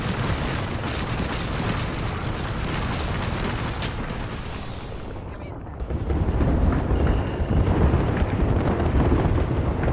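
Grenade explosions and gunfire in the Apex Legends video game: a dense, loud roar of blasts and bursts that fades, then swells again into heavy booming, with the player's excited voice over the action.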